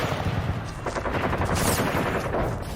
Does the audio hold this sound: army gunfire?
yes